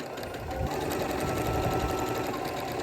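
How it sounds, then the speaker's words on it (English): A sewing machine stitches together the red fabric layers of a capelet, a continuous close, steady mechanical whirring with no talk. "I'm going to sew just the red layers together, what I have clipped"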